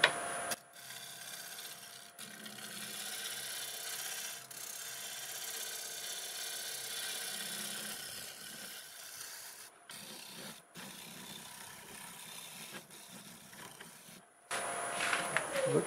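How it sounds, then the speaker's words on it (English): A negative rake scraper works over a walnut bowl spinning on a wood lathe, giving a steady faint rasping hiss with brief pauses and a louder burst near the end. "I'm going to go ahead and use my negative rake scraper, get it cleaned up with all tool marks"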